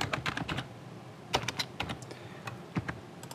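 Fast clacking keystrokes on a computer keyboard, typed in quick uneven bursts with short pauses, close and fairly quiet, with no voices.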